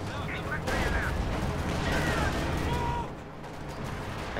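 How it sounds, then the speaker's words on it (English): Rapid triple machine-gun fire from a Stuart tank in Company of Heroes 2, a dense continuous rattle of shots with battle noise, loud throughout and easing slightly near the end. "I hate how fast a Stuart cuts down an infantry with those triple machine guns."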